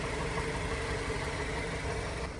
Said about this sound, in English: we are going to see if this will stop the knocking from the engine